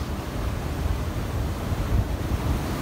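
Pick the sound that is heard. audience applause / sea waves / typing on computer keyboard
sea waves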